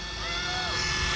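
A small rotor on an Eachine E120 RC helicopter whirs with a high, buzzing drone, close and continuous, with faint voices underneath.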